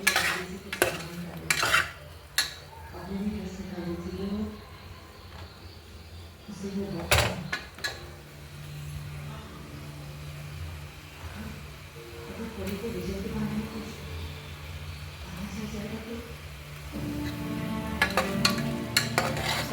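Tomatoes fry for a Telangana mutton curry while a spoon stirs them, producing a low sizzle with scattered scrapes and clinks of utensils against the pot; a voice talks over much of it.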